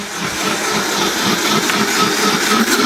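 A blender runs continuously, whirring steadily as it whips butter into a sauce for a tuna dish with celery and pear to form an emulsion, the motor noise close and even throughout.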